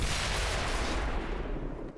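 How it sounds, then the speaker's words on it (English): A dense, roaring explosion from the video game XCOM 2 fills the whole span, a steady blast of noise that slowly fades toward the end. "I don't think that explosion hit anyone at all."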